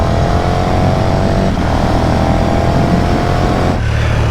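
A KTM 1290 Superduke R motorcycle pulls away, its engine droning loud and steady throughout, with the pitch shifting slightly near the end.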